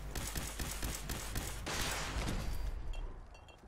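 Rapid gunfire aimed at a missile-carrying super mutant in the video game Fallout 4, a loud dense burst of repeated shots with booming impacts that tails off near the end.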